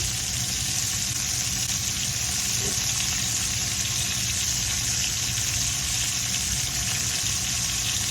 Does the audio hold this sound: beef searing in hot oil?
yes